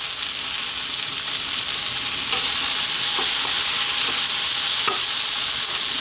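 Fresh chili drops into hot oil with garlic ginger paste for a chickpea potato curry, giving a steady bright sizzle and frying hiss over the whole stretch, with a few faint stirring clicks and no talking.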